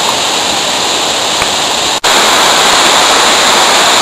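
Steady, loud roar of a waterfall, a dense wall of rushing water with no break except a brief dropout midway.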